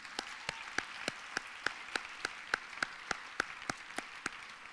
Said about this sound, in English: How about a round of applause for Freed?